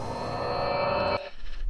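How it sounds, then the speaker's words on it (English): A game teleporter sound effect from a prototype pack, a dense humming whoosh with bright sustained tones that cuts off sharply after about a second, followed by a short fading tail. "That's teleporter sound."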